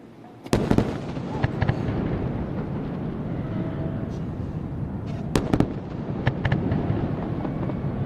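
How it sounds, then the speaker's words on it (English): Sonic booms from Falcon Heavy side boosters returning to land arrive as sharp cracks at the start and again midway, followed by sustained rumbling and wind buffeting across the whole stretch. "Let's listen for the sonic booms."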